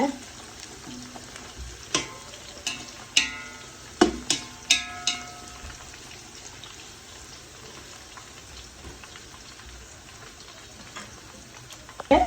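Cinnamon and cloves frying in hot oil for biryani: a steady close sizzle broken by sharp crackling pops and a few stirring clatters, busiest early, then settling into a quieter fizz.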